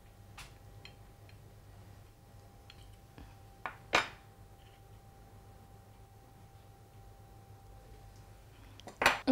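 Plates and cutlery are handled quietly while sardines stuffed with smoked duck breast are plated over avocado tartare, a few scattered clinks and taps against a low background hum, with a cluster of sharper knocks at the end.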